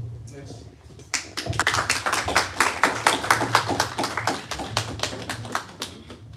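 An audience at a Kimbanguist conference breaks into applause: after a brief voice, many hands clap in a dense, steady stream that lasts to the end.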